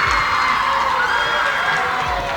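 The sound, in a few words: applause and cheering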